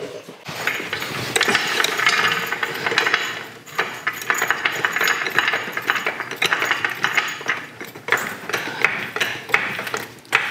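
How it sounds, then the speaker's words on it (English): A torque wrench clicks and ratchets while tightening the front upper control arm bolts on a 100 Series Land Cruiser, giving dense, repeated mechanical clicking and clatter that runs steadily through the whole stretch with no talk. "then I'm gonna torque these to 98 Newton meters."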